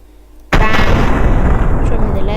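A loud musket shot in a video game bursts in sharply after a quiet moment, then a dense, booming roar sustains at high level to the end.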